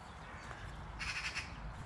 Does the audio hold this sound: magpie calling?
yes